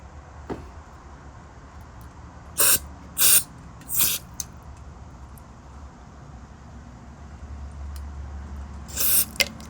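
Short sharp bursts of spray flushing grease out of the bearings of a Super Swivel pest control rig reel, three close hisses in quick succession followed by one more a few seconds later over low background noise.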